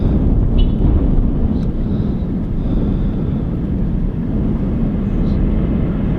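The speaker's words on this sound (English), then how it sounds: "Ryanair 737 on approach here." Ryanair Boeing 737 on approach at Manchester Airport, a steady, rumbling broadband roar of the passing airliner mixed with wind buffeting on the microphone, continuous at moderate loudness.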